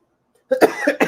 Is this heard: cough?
yes